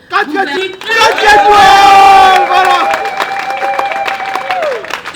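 A loud crowd roars and cheers for several seconds, with shouts and sustained held voices rising above the din before it gradually fades.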